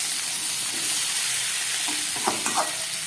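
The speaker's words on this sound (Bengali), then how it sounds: "গরম মশলাটা ফোড়ন দিয়ে এঁচোড়টা ভাজছি" Green jackfruit frying in a pan with whole garam masala tempering gives a steady, close hiss of sizzling oil, with a few brief stirring scrapes near the end.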